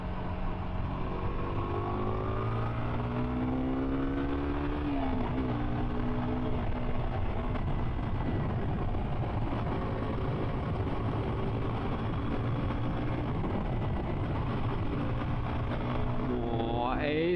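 A Ducati Panigale V4S motorcycle ridden along a winding road, a steady loud engine drone with rising and falling revs through the bends and rushing wind noise throughout, heard close from the rider's position.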